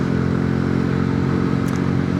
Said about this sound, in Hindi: मुझे तो इस बाइक को ब्रेकर पर उछालने में मज़ा आ रहा है।